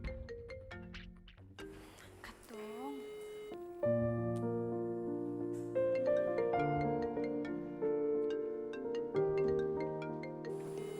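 A phone ringtone plays as a call waits to be answered, a melodic chiming tune of bright electronic tones that grows fuller partway through and carries on alone without any voices.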